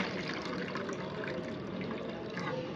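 Milk fetched from a milkman is poured into a bowl to set homemade curd, giving a steady, continuous liquid splashing and trickling close by with no talking over it.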